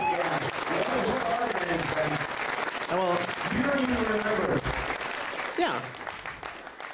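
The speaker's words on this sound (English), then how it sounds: "a fantastically big hand of applause for the people who made this possible" Applause from a large audience at a demoparty prizegiving at Solskogen 2017, a steady broadband wash of clapping throughout while someone talks over it, fading slightly toward the end.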